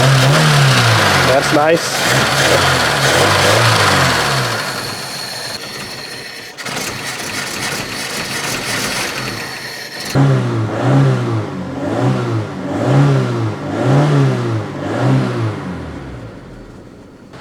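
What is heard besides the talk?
Opel Ascona engine revving on old fuel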